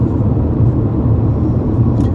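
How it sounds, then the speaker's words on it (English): A BMW E46 3 Series Compact with a 5-speed manual gearbox drives along, its engine running at a steady, fairly loud, low droning note under road and cabin rumble, with no clear rise in revs. "the engine revs really freely, and it does feel extremely nippy"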